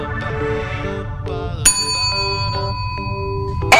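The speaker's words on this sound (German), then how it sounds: "Jedes Mal, wenn ich diese Glocke läute" A bell is struck several times, its bright metallic ding ringing out and decaying with clear sustained overtones, including one sharp louder strike midway and another at the end, with no talking over it.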